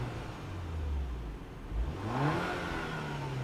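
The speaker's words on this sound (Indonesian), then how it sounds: "Ini kita dengerin coba. Ini pakai mode normal deh." A car engine revs through a sport exhaust set to normal mode, with no soft limiter, climbing to high RPM; a steady low drone rises into a sweeping, louder rev near the middle, then settles into a sustained hum, close and alone without talk.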